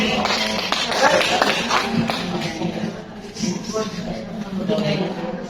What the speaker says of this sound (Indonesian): Tepuk tangan buat Bu Meli